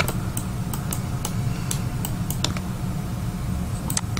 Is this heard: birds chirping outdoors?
no